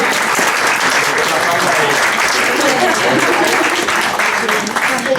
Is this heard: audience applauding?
yes